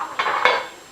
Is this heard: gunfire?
no